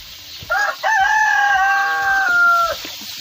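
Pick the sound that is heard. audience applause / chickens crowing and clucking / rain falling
chickens crowing and clucking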